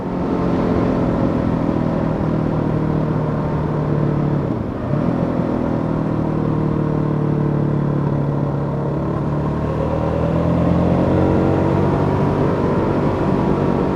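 Steady drone of a 2017 Hyosung GD250R motorcycle engine braking while riding, with a continuous mid-pitched hum and slight wind rush, the tone shifting gently as engine speed falls.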